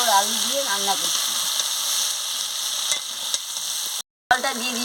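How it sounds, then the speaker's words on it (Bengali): Goat meat being stir-fried in thick gravy with jackfruit and potato, a continuous frying hiss with soft stirring scrapes, a brief break near the end, and a faint voice at the start. "কেমন কষাচ্ছি খাসি মাংসের গ্রেভি দিয়ে।"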